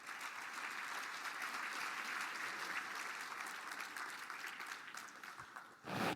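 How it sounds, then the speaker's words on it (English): Sustained applause from a large audience at the Mille Lacs Band of Ojibwe State of the Band address fills the space, thick and even, then tapers off before a brief louder burst at the end. "Let's do one more round of applause"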